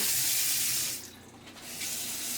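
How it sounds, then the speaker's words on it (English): Kitchen tap water pours steadily over frozen shrimp in a sink, with a continuous hissing splash that dips briefly as the flow shifts and then resumes at full strength. "I'm gonna sneak a little warmer water on that."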